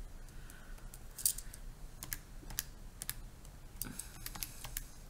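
Fingers type on a computer keyboard while entering a math function, producing quiet, irregular bursts of clicking keystrokes with small pauses between them.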